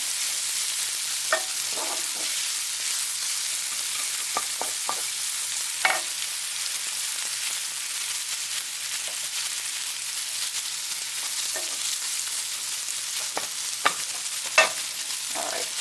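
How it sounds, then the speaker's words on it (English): Onion sautéing in a pan for stir-fried cabbage with apple and ham, a steady bright sizzle that fills the background, broken by occasional soft taps and stirring scrapes, with no talking. "you get that wonderful aroma from the sauteing onion"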